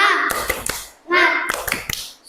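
Primary school children chant together while doing rhythmic spirit clapping, voices mixed with sharp, loud clusters of hand claps in a quick pattern, repeated twice.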